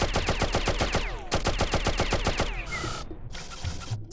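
Gunshots in the 1997 platform game Oddworld: Abe's Oddysee, a loud, evenly spaced rapid volley of cracks, a brief pause, then another fast string of shots followed by a couple of louder separate blasts.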